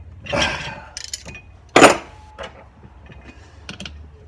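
Bolts being tightened during an Air Lift Loadlifter 5000 install on a Duramax truck, heard as close, sporadic metallic clicks, ratcheting and clanks with short pauses between.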